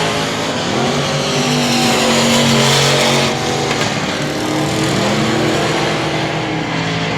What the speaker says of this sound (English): Sterling Tausch, the white over red 95S, still on the track, motoring around